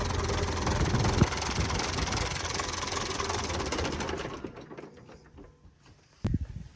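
A heavy diesel engine of an MTZ-82 tractor idles with a steady knocking chug, then shuts off partway through; a single thump follows in the near silence.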